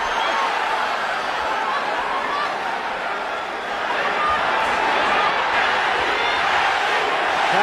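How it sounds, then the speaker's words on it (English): A large crowd at the Pacquiao–Morales boxing rematch roars and chants, a dense, loud wash of voices that surges steadily throughout. "Manny, the crowd chants."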